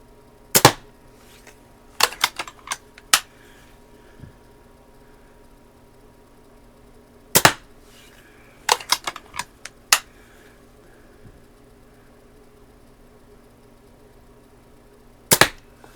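Sharp, isolated shots from a rebuilt Daisy 299 BB gun fired at targets, a single crack followed by a quick cluster of four, then one and a final shot, each with a faint pellet impact against a quiet background.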